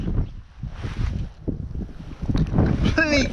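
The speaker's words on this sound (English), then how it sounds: "the wind's changed direction now" Gusty wind at a trout fishery blows across the microphone in steady low rumbles and buffets, with faint rustling and a brief higher whistle near the end.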